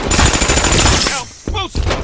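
Rapid automatic gunfire from the video game Brink, a dense burst of shots for over a second, then brief pause and a few more crackling shots and clanks, loud and close.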